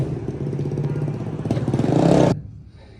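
A motorcycle engine runs close by with a steady throbbing rumble that swells louder toward the end, then cuts off abruptly, leaving faint background noise.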